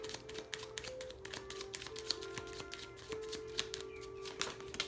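Tarot cards being shuffled close up, a quick run of soft riffling taps and flutters over a faint steady hum, with no one talking.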